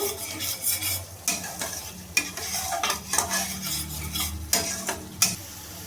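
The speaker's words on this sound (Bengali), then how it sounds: "মশলাটাকে আমি আবার ভালোভাবে কষিয়ে নেব" A masala with a little added sugar being sautéed in a pan, a continuous sizzle under repeated scraping strokes of a spoon, with regular louder clacks against the metal.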